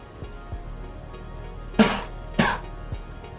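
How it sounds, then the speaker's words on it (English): Two sharp, loud coughs from a nearby person, spaced about half a second apart, over a steady low background hum. "I just started recording and I'm starting to cough."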